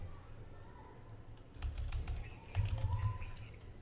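Typing on a computer keyboard while entering Linux logical volume commands in a terminal, a quiet run of irregular key clicks over a low background hum, growing denser in the second half.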